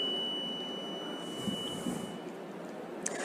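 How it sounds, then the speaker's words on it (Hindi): A VVPAT voting machine beeps during an election mock poll after its paper slip drops, a thin, steady electronic tone held for a couple of seconds, faint and alone over a quiet room hum. "जब ये पर्ची 60 सेकंड बाद कट के गिरेगी तो 5 सेकंड की बीप की आवाज़ यहाँ पर सुनाई देगी"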